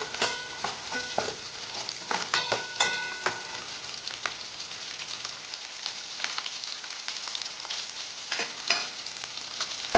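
Small shallots frying in a pan as they are stirred, a close crackling sizzle with irregular scraping bursts, loudest early on and then settling into a softer hiss.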